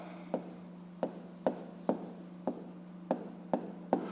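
A pen writes out a fifth-grade maths exercise by hand, a series of about nine crisp, close taps and short scratches at an uneven pace over a faint steady hum.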